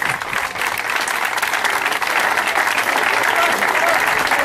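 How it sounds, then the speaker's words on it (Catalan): An audience at a Palamós football club shirt presentation applauds the young players who modeled the new season's kits, a loud, dense and sustained wash of clapping. "abans però uns aplaudiments, sisplau, per aquests joves"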